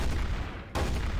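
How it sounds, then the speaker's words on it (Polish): Gunfire in Garry's Mod, a game, in Trouble in Terrorist Town (TTT) mode, arrives as a sudden sharp burst partway through, following a dull rumbling din, loud and close with no talk over it. "Co to za strzały?"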